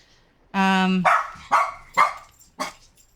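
Dog Copper barking: one drawn-out howling bark followed by three short sharp barks in a loose rhythm, close and loud in a quiet room.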